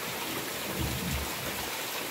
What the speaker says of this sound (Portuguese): O inverno já chegou por aqui e muita chuva.